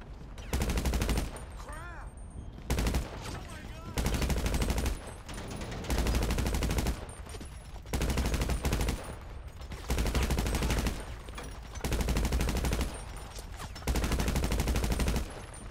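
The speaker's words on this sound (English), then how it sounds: "After he killed me, we had our first gunfight." Repeated bursts of rapid gunfire in a GTA Online gunfight, loud, close sustained volleys of about a second each separated by short gaps, recurring steadily throughout.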